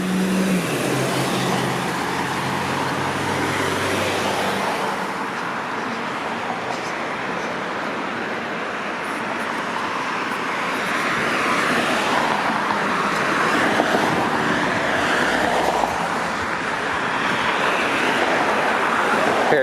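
Steady roar of traffic on Highway 410 in Brampton, Ontario, heard by someone walking along Clark Boulevard, a continuous wash of passing cars that swells slightly toward the end, with no voices.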